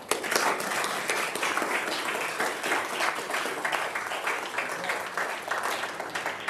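Sustained applause from an audience at a naturalization ceremony, dense steady clapping filling the room for the whole stretch at an even level.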